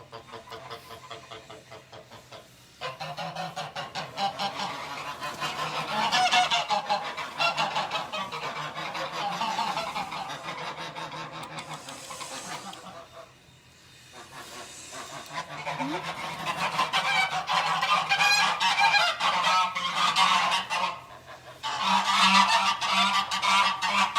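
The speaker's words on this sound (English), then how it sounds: "In total, I believe there are somewhere between 20 and 30 eggs under all these geese" Geese honking on a farm while sitting on eggs, a flock calling in loud, repeated overlapping honks close by, with short lulls and a human voice faintly underneath at times.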